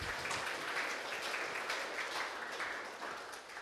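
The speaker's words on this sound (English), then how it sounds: "give him huge round of applause to our speaker." Audience applause at a Python programming conference talk, a sustained, even wash of many hands clapping that stays steady and faintly distant before tapering slightly at the end.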